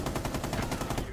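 Rapid automatic gunfire in a ranked video game match, a tight burst of about a dozen evenly spaced loud shots that rattle closely for just over a second.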